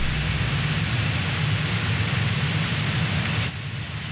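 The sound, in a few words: cartoon airplane engine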